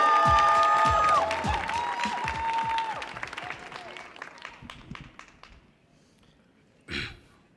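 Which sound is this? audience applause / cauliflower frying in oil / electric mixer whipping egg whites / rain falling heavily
audience applause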